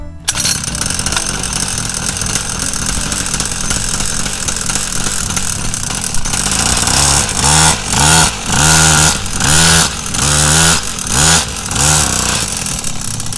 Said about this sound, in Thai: เดี๋ยวสตาร์ทให้ดูอ่ะ ว่ามีน้ำมันหรือเปล่านะ